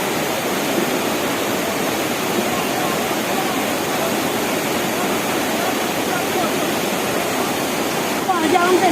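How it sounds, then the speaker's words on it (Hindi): Rushing floodwater surges through a drain during a rescue of trapped workers, a constant loud roar of churning water filling the whole clip, with faint voices under it. "वो पानी बढ़ रहा, फटाफट."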